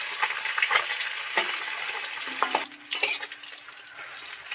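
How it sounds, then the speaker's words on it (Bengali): Parshe fish deep-fry in hot oil, giving a steady, close hiss of sizzling with occasional louder crackles and soft clinks of a utensil. "মাছগুলো সব ডিপ ফ্রাই করে ভেজে নিলাম"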